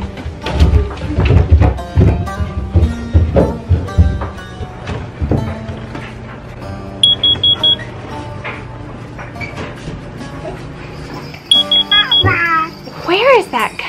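An alarm in a house gives repeated high electronic beeps in short bursts, heard through loud footsteps, knocks and talking voices.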